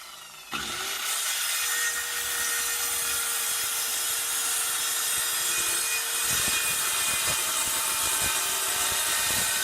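Power saw cutting through wood for a DIY Raspberry Pi arcade cabinet, starting abruptly and then a loud continuous whining rasp held for several seconds, close up with no talking.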